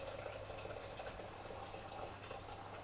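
A pan filling with tap water in a kitchen, a steady close rush of running water lasting throughout, with a low constant hum underneath and no talking.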